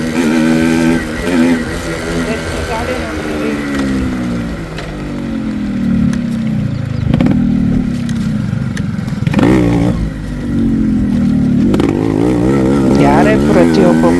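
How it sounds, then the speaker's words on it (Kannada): A 1991 Yamaha RX 100 two-stroke motorcycle running up close, its engine revving and dropping through repeated rises in pitch over about fourteen seconds, with someone talking over the engine. "RX 100 ಸೌಂಡಲ್ಲೇ ಜನ ಕಂಡುಹಿಡಿದುಕೊಳ್ತಾರೆ RX ಅಂತಂದು."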